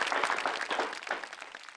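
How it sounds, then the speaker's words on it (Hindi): An audience gives a steady, dense burst of applause to welcome the poet and satirist Sanjay Jhala onto the stage at a Hindi poetry show. The clapping is fairly close and continuous, with no voices over it. "हम जरा जोरदार तालियों से उनका स्वागत करें"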